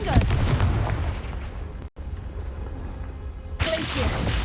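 A fire-blast spell in the video game Hogwarts Legacy, with booming explosive bursts, a brief dropout near the middle, and a fresh loud crack near the end, all over a dense game-effects backdrop.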